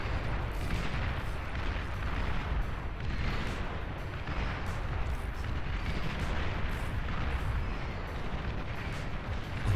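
Continuous artillery barrages rumble through a Beyond All Reason real-time strategy battle, dense overlapping booms and distant blasts rolling steadily with no pauses for the full stretch.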